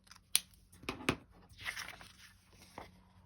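A few sharp scissor snips cut through paper, spaced irregularly, close and fairly quiet, with no talking.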